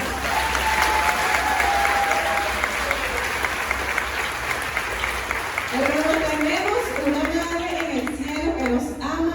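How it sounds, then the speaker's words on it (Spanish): Applause from a church retreat audience rises as a steady, dense wash of clapping throughout, with a sustained tone and later a warbling musical line sounding over it. "Denle un aplauso a la Virgen."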